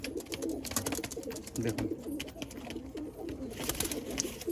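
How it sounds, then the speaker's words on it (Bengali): Madras pigeons coo softly and steadily in a loft, a low continuous burble of several birds close by, with a brief spoken word. "মাদিটা খুব সুন্দর পায়রা,"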